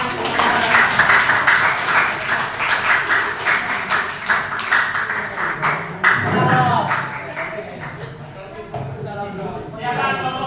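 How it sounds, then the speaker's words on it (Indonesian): Junior high school students in a Surabaya classroom clap together for a group returning to their seats, a loud dense burst of hand claps that thins and trails off, with some talking mixed in. "Beri tepuk tangan."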